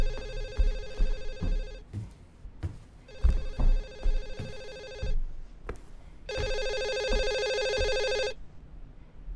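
A telephone rings in the horror video game Hazing - Night Shift with a classic electronic ring, three bursts and the last the longest. Clattering thumps and footsteps sound between the rings.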